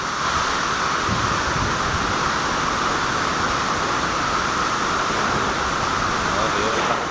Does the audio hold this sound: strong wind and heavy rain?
yes